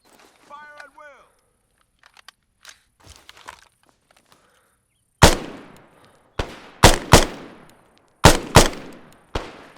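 Gunfire at a shooting range in the military video game ArmA 3: a few quiet footsteps and a brief voice come first, then loud, sharp single shots ring out close by in an irregular series, each trailing into a short echo.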